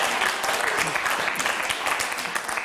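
Audience applause from a comedy show crowd, a dense, sustained burst of many hands clapping, fairly loud and close, continuing throughout with faint crowd noise mixed in.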